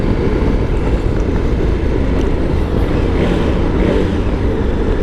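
A KTM 1290 Super Adventure motorcycle engine drones steadily while riding, with a loud, continuous broadband roar and wind rush that holds a constant level throughout, no voices.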